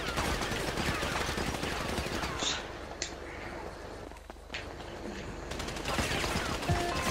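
Gunfire in the Grand Theft Auto video game: a few sharp, isolated shots crack out over a steady bed of game noise and background sound.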